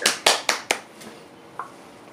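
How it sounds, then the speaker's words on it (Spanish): A few people clap over a video call, about five sharp, separate claps in quick succession that fade, then one faint clap after a short pause. The sound is thin and close, with no talking. "yo le mandaría que entre todos un aplauso virtual a Alejandro"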